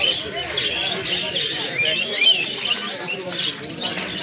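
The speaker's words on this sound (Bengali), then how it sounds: "এখানে বদ্রি আছে, বদ্রি অ্যাডাল্ট বাচ্চা সব রকম আছে।" A crowd of small birds chirps and twitters nonstop, with busy overlapping high calls from a flock of budgerigars close by.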